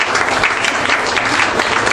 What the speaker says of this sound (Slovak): Veľký potlesk a víťaz